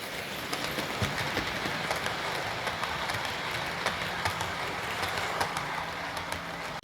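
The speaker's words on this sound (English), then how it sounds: "watching the trains go past" Model railway trains run past on a garden or indoor layout, a faint steady rolling rumble with light clicking of wheels over rail joints, continuous and fairly quiet throughout.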